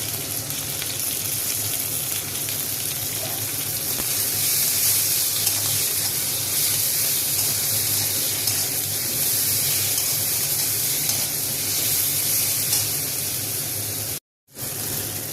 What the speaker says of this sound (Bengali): কষানো হয়ে গেছে, এবার একটু জল দেবো, বেশি না অল্প জল দেবো